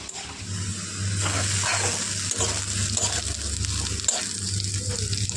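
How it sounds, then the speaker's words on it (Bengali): Bitter gourd and potatoes frying in a pan, with steady loud sizzling and crackling throughout, plus occasional stirring scrapes and a low background hum. "তো এদিকে আমি উচ্ছে আলু দিয়ে ভেজে নিচ্ছি"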